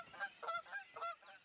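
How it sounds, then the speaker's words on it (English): Canada geese honk in the spring in a children's cartoon scene, four evenly spaced nasal honks in quick succession, fairly faint and heard alone. "Canada geese."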